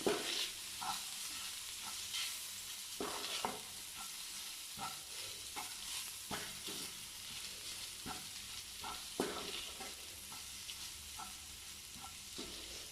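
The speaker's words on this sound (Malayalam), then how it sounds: "നന്നായിട്ട് ഇളക്കി കൊടുക്കാം." Cooked soya chunks stirred in a frying pan for a roast, a spoon scraping in repeated strokes over a steady close sizzle, with no talking.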